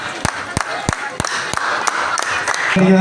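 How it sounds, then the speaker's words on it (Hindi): At a teacher's retirement honour ceremony, sharp hand claps ring out in an evenly spaced rhythm over a steady crowd murmur, with a voice speaking over them. "जोरदार तालियां आप सभी की बजती रहनी चाहिए"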